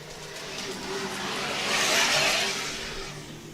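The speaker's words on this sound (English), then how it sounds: "Heard more rocks flying than exhaust." A stock Can-Am Maverick R UTV race car sweeps past during a 12-hour desert race in Broadview, Montana, a broad rising and fading rush that is mostly gravel and rocks spraying, with very little exhaust note.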